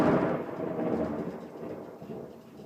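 Thunder from a nearby storm rumbles loudly and deeply, then slowly rolls off over a few seconds without fading out.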